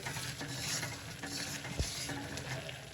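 Adadiya mixture of urad flour roasting in a pan over a gas flame, with close, steady stirring scrapes and a soft continuous sizzle, one sharper knock of the spatula midway.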